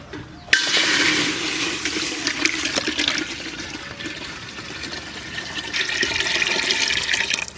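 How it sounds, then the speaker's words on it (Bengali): Whole milk, about five kilos, poured steadily into a cooking pot in a village kitchen for dudh chitoi pitha, giving a continuous gushing, splashing pour that swells near the start and again toward the end, with no talking. "এই যে দিয়েছি পুরোটাই দুধ"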